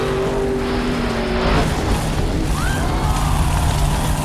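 A purple monster truck revs and races up a ramp for a stunt, a steady engine drone with a rising whine and tire noise, playing alone without voices.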